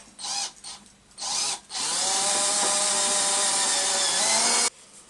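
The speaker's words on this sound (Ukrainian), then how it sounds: "Беремо ступеневе сверло і собі розсверлюємо" A power drill with a step bit bores through metal tubing for a height-adjustable bar stool. After two short starts it runs in one loud, continuous whining grind for about three seconds, then stops.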